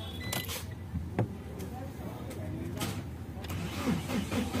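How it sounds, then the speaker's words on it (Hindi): A Mahindra Xylo car with a mass air flow sensor fault is started, its engine cranking and catching into a steady mid-pitched idle. The sound is close and continuous, with some background noise. "ये देखो गाड़ी स्टार्ट हो गई"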